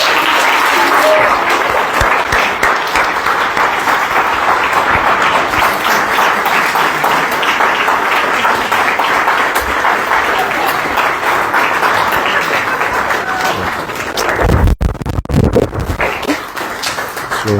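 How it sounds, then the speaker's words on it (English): An audience at a charity's annual general meeting gives sustained, even applause for special achievement award recipients, a dense wash of many hands clapping that holds steady for the whole stretch, with a brief voice near the end. "Great clapping."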